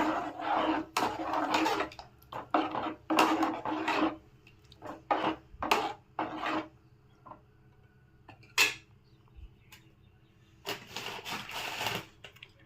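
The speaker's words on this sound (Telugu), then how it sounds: "ఇప్పుడు ఉడికించిన పప్పు వేసుకుందాము. ఒకసారి బాగా మిక్స్ చేద్దాము." Boiled dal being stirred in a cooking pot with a spoon while making sambar, giving irregular clattering knocks and scrapes in short bursts with quiet pauses between them.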